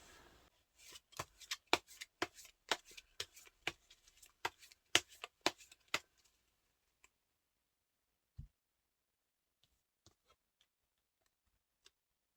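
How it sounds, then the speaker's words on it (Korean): Tarot cards being shuffled, a rapid series of about fifteen crisp riffling slaps for six seconds, then quiet with a few scattered faint clicks and one soft thud as a single card is drawn. "좋은 카드 한 장을 뽑아볼게요"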